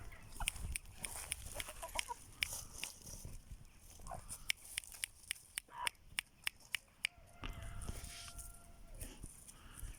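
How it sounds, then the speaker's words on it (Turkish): Backyard chickens and a rooster clucking after being let out of their coop, with scattered close clucks and short calls over quiet outdoor ambience, plus a few sharp knocks. "Evet şimdi tavuklarımızı dışarı salacağız"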